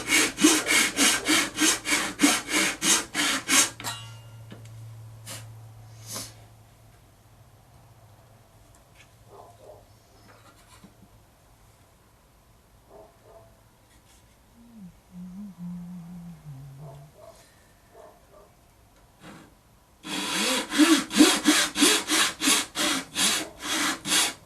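A fret saw cuts fret slots into a wooden fretboard in quick rasping strokes, loud and close, for about four seconds, then quiet with faint handling sounds before another burst of steady sawing near the end.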